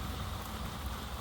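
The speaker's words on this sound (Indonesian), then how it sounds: "suasana posisinya sedang hujan Lur" Rain falls as a dense, steady hiss, continuous and even across the whole moment, with no voices or other distinct sounds standing out.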